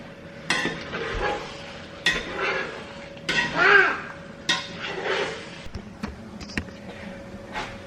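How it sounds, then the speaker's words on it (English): Eggs being scrambled in a pan for breakfast burritos: a utensil repeatedly scrapes and clinks against the cookware in uneven bursts, close and fairly loud, with faint sizzling underneath. "We'll scramble some eggs."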